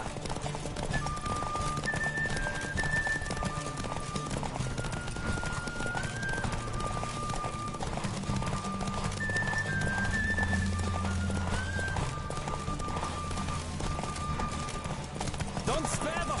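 Rapid clip-clop of a galloping horse in a video game runs steadily throughout, mixed with game music, a whinny and voices speaking over it.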